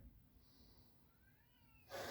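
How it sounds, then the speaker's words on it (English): A cat in a hallway makes faint, thin, distant cries in a very quiet room, followed by a sudden louder, breathy call at the very end. "I can hear my cat in the hallway."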